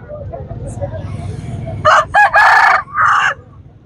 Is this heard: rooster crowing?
yes